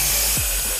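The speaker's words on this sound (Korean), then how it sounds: "소박한 전기톱을 사용하지만" An electric saw cuts stone for a hanok foundation, a steady close grinding roar with a brief low rumble partway through, heard alone for under a second.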